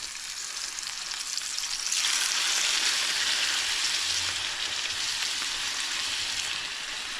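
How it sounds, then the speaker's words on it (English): Chicken thighs sear in a hot pan, a loud, steady sizzle that swells sharply about two seconds in and stays intense before easing slightly near the end. "We're just searing the meat."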